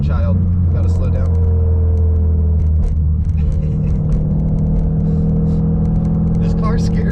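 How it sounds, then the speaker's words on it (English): A Mitsubishi EVO X with a catless ETS exhaust, ACT flywheel and Exedy clutch drones loudly from inside the cabin with a deep steady rumble and mild revving, while people talk over it. "This car scares people. It's loud."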